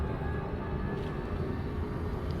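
Ship fuel scooping in the space game Elite Dangerous produces a steady, low rumbling roar with broadband hiss, continuous and moderately loud, with a brief thump at the end.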